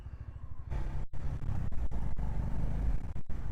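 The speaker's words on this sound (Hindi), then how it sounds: "क्या रिफाइंड इंजन है भाई साहब, क्या रिफाइंड इंजन है भाई" A Honda H'ness CB350 motorcycle engine runs steadily in first gear, a continuous low throbbing exhaust note that grows fuller after a quiet start, with a few brief dips, close and fairly loud.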